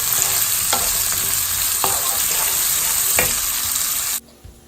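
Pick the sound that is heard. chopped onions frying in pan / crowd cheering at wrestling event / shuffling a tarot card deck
chopped onions frying in pan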